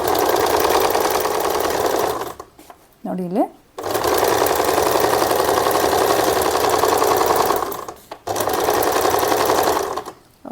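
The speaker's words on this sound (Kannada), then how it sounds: "Machine sound ಕೇಳಿಸ್ಬಹುದು." A sewing machine stitches straight lines on a practice sheet in long, steady, loud runs, broken by two short pauses during which a voice speaks briefly.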